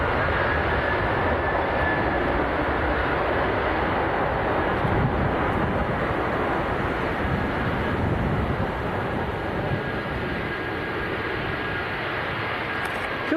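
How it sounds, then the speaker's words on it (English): Aircraft taxiing at Leeds Bradford Airport produce a continuous broad engine roar with a faint steady whine, loud and unbroken throughout, with no voices heard. "Currently got 6 aircraft taxiing here at Leeds."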